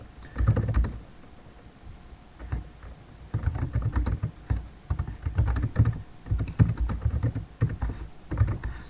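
Fingers type steadily on a computer keyboard while editing a text file over an SSH session, with quiet uneven bursts of key clicks and short pauses, no voices.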